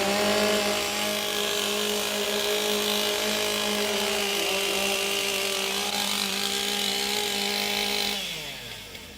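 Several STIHL MS661 chainsaws warm up at a timbersports competition heat, a loud steady high-revving drone that holds for about eight seconds before the engines drop back toward idle.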